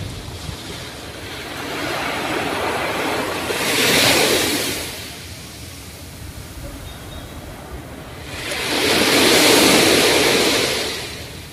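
Ocean waves on Nha Trang beach, with two loud surges of surf breaking and washing in about five seconds apart over a constant roar of water and wind.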